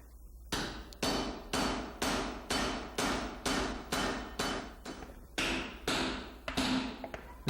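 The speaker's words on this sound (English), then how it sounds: "This hammer is made just for doing this type of work." A hammer forging a metal blade collar strikes in a steady, regular rhythm, about a dozen ringing blows close by, each one sharp and evenly spaced, with a short pause partway.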